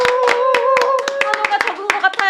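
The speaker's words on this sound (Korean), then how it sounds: "환호가 적은 것 같아요. 더 크게 환호해 주세요." An audience at a live political talk show claps in fast, rhythmic unison while voices cheer and chant over the beat. The sound is loud and close throughout.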